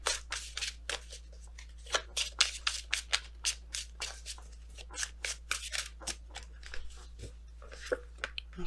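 Tarot cards being shuffled in a quick series of crisp riffling and slapping bursts, close and fairly quiet, with no talking over them.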